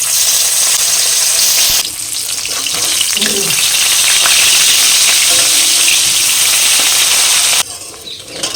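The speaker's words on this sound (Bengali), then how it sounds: "তেল গরম হয়ে গেছে, মাছ দিয়ে দেবো।" Hilsa fish heads drop into hot mustard oil and sizzle loudly, a dense, continuous frying crackle with a few pops that stays strong for several seconds, then fades to a quieter hiss.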